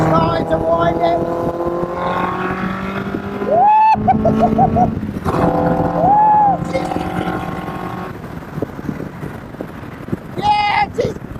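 An Indy R race car with a Duratec engine revs up through third gear, the engine note rising and falling in close, loud sweeps with wind buffeting, while a driver talks over it.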